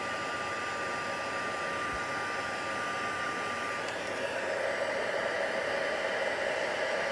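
A heat gun blows hot air in a continuous, even, hissing rush close by, a steady noisy airflow with a faint whine that stays level throughout, with no talking.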